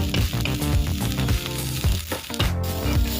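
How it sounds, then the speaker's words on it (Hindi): Shredded cabbage and capsicum fry in a pan for a burger filling, giving a loud, steady sizzle broken by scraping stirs and short clattering spatula strokes, with no talk. "इसको कम से कम 2 मिनट तक हम भूनेंगे"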